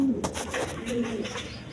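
Pigeons cooing inside a cage, soft repeated low coos in a steady murmuring rhythm, close by with a faint background hum.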